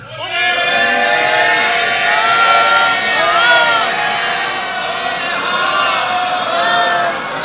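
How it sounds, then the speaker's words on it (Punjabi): A large Sikh congregation at Takhat Sri Harimandir Ji, Patna Sahib, shouts a loud jaikara together, many voices rising and falling in a sustained, echoing roar of chanting and cheers. "ਉਹ ਸਾਰੀ ਸੰਗਤ ਜੈ ਜੈਕਾਰ ਕਰ ਰਹੀ ਹੈ ਤੇ ਤੁਸੀਂ ਮਿਲ ਕੇ ਜੈ ਜੈਕਾਰ ਕਰੋ ਤੇ ਇੱਕ ਵੱਡਾ ਸਾਰਾ ਜੈਕਾਰਾ ਗੁਜਾ ਦਿਓ"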